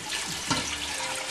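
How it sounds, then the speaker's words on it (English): Water pours steadily into a pot of moong bean soup on the stove, a continuous close splashing stream with a brief louder splash midway. "And what I'm going to do now is just add some water."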